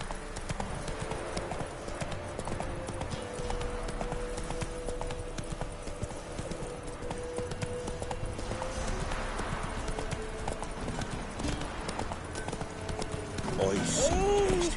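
Roach the horse's hooves clip-clop steadily in The Witcher video game, a soft rhythmic plodding under game ambience and distant voices, growing a little busier near the end.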